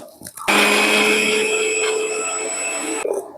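A mixer grinds white mustard seeds and poppy seeds with water into a paste, a loud steady whirring drone close by that runs for about two and a half seconds and then cuts off.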